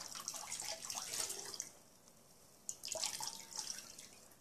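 Water squeezed out of freshly dyed yarn, trickling and dripping back down in two bursts separated by a quiet pause, faint and close.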